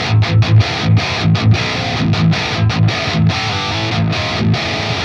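Heavily distorted electric guitar runs through a Fortin Nameless Suite X amp sim with the microphone right against the speaker, loud and saturated, with chugging palm-muted riffs in a steady rhythm that never lets up.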